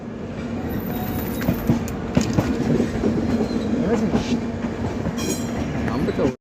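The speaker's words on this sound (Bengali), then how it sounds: "আমাদের ট্রেন এই মুহূর্তে ছেড়ে চলে যাচ্ছে বর্ধমান জংশন" An express train pulls out of Bardhaman Junction with a steady, loud rumble of rolling wagons and rhythmic wheel clatter throughout, plus brief high metallic squeals near the tracks.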